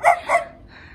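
Dachshund barking close by, two quick sharp yaps in succession followed by a fading quieter tail, loud and alone without talk.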